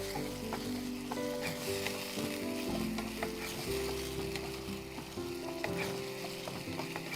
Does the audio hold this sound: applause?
no